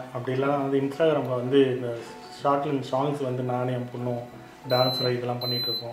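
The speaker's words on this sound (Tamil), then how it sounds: "பேசிகிட்டு இருக்கும்போது பீப் சவுண்ட் வந்துருச்சு" A cooker beeps in a home kitchen while mushroom soup is being made, a steady electronic tone sounding near the end, partly masked by someone speaking continuously in Tamil.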